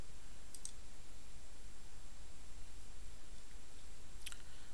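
Two faint, crisp computer mouse clicks on a quiet background, one early and one near the end.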